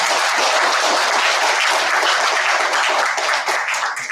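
Members of a worship gathering give a warm round of encouraging applause, thick and steady clapping filling the room, loud and unbroken before easing slightly near the end.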